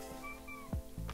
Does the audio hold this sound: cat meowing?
yes